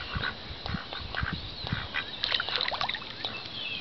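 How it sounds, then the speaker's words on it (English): Ducks quack outdoors in a steady, moderately loud cluster of overlapping calls with a few honk-like notes and no talking. "Puppies and ducks."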